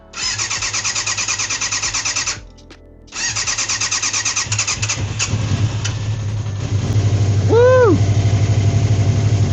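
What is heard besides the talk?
80s sportbike engine starting and idling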